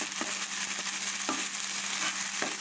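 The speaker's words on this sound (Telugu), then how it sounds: "ఇవి ఏడుతున్నప్పుడే కొంచెం ముక్కల్ని పక్కకి ఈ పక్కకిలాగా తిరగేసుకోవాలండి" Fish pieces fry in a pan for fish curry, a steady close hissing sizzle with occasional scraping stirs and turning of the pieces, no voices.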